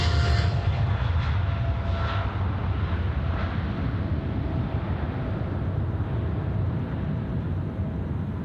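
An Air China jet takes off from Sydney Airport, its engines a loud, steady broadband roar with low rumble that holds throughout, close and continuous with no voices.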